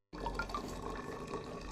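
Freshly boiled hot water is poured steadily into a detox drink mix made with RG GL powder, a close, continuous liquid gurgle and trickle lasting under two seconds with no speech.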